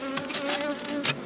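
Honey bees buzz steadily around a nuc hive in spring, a close, continuous drone with a few louder passes as individual bees fly near.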